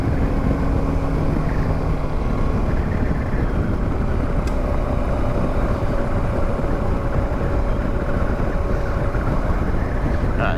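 A Suzuki DR650 motorcycle is ridden at steady speed, with a constant engine drone heavily buried under loud, continuous wind rush across the microphone.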